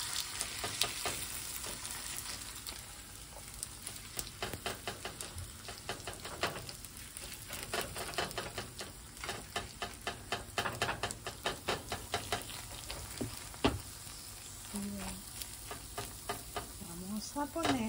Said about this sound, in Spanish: Y aquí el aceite está calientito. Voy a proceder a poner nuestro arroz tortillita.